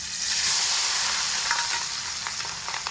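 Steady close sizzle of garlic and onion paste frying with spices in a pan for a taro-leaf dish with hilsa fish head, a continuous hiss with faint stirring scrapes and no talking.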